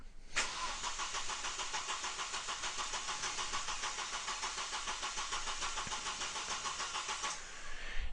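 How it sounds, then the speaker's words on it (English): Car engine with nearly 150,000 miles cranking over on the starter during a relative compression test, a steady rapid rhythmic chugging for about seven seconds without catching, fairly close. "it asks me to crank the engine again"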